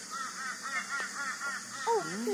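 Geese honk nearby in a series of quick, repeated nasal calls, followed by a couple of louder, drawn-out honks toward the end, moderately faint with no talking.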